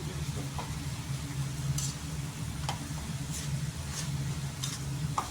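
Baby prawns with shrimp spice mix frying in a pan while gourd-peel chachchari cooks, a steady low sizzle with a few soft ticks and clinks of stirring, close and fairly quiet.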